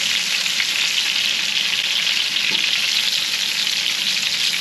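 Chicken cutlets fry in a pan, giving a steady, loud, even sizzle with no voices and no break for the whole stretch.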